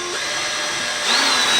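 A power drill drives a 2-inch screw into wood, a loud, close, continuous whine that rises in pitch and strain partway through.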